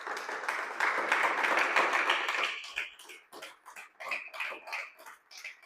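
A church congregation bursts into applause, a dense wash of clapping for a few seconds that thins out into scattered, uneven claps and then fades.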